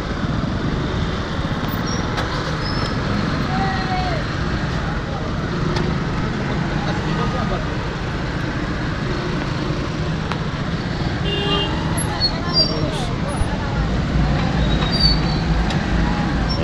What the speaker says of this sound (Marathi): ट्रॅफिक कसं जाम होतं